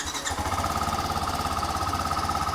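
A 2024 TVS Apache RR 310 motorcycle engine runs with a loud, steady, fast rhythmic thrum throughout, close by and with no voices over it.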